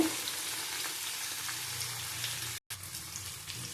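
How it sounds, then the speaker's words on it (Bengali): Papaya and potato curry fries in a pan, a faint, steady hissing sizzle that runs on evenly and cuts out for a brief instant near the end. "তরকারিটা ভালো করে ভেজে নেব"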